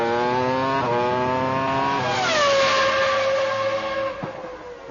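A Formula 1 car on a circuit revs hard toward about 16,000 rpm, its loud, close, high-pitched engine note climbing in steady surges and then settling into a sustained scream that tails off at the end.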